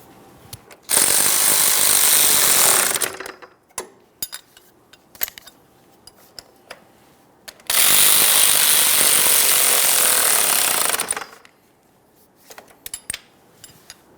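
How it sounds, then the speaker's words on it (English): A power tool snugs up exhaust mounting hardware on a 2013-2020 Ford Fusion 2.0L. Two long, loud bursts of a few seconds each are separated by scattered metallic clicks and clanks of handling. "Start on each piece of mounting hardware and then of course snug them up"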